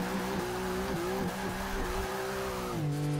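A Subaru STI in Forza Motorsport 6 revs hard with a rising and falling engine note that echoes in a tight walled space, loud and continuous from start to end.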